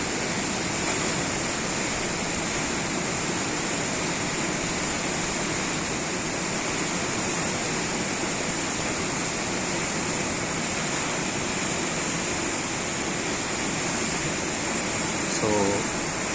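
Flood water on the Thamirabarani river rushes in a constant, roaring broadband wash, heavy and unbroken throughout like a waterfall, with no pauses or changes in intensity.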